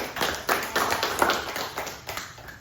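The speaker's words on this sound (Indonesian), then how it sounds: "Beri tepuk tangan." Students in a classroom clap their hands during a teaching practice session, giving a short burst of uneven, moderately close claps over a couple of seconds.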